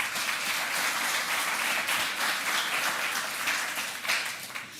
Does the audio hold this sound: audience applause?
yes